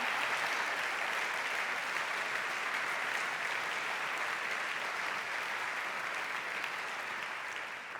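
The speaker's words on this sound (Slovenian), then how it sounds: "Zaslužijo si aplavz." Sustained audience applause at a charity concert for a new sports hall, following a chamber choir's performance, with an even, dense wash of clapping that holds at a steady level for the whole stretch.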